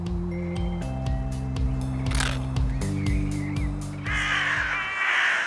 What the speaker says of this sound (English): Freaking blackbirds!